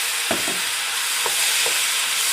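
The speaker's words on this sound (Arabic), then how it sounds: "حمرت شويه رز كده في الزبده والزيت" Rice frying in butter and oil, a constant bright sizzle close up, broken by a few soft stirring scrapes and knocks against the pan.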